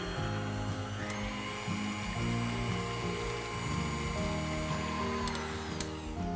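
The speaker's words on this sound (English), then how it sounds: "we're just gonna mix this all together until it kind of gets nice and bubbly" Sugar, oil and yeast being mixed together for homemade rolls, heard as a steady, continuous mechanical whirring hum with faint ratcheting clicks, running loud and unbroken throughout.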